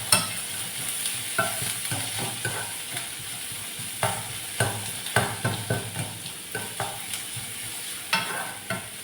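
Onion and egg frying in a pan give a steady close sizzle, broken by repeated scraping strokes of a spatula stirring at an irregular rhythm, with no voices.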